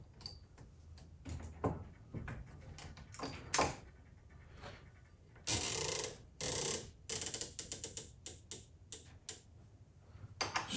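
Clicking adjustment on a Hornady AP reloading press while loading 45 Colt, a run of sharp, irregular ratchet-like clicks with a few louder bursts, close up and with no talking.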